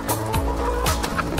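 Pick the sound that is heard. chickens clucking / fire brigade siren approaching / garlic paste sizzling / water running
chickens clucking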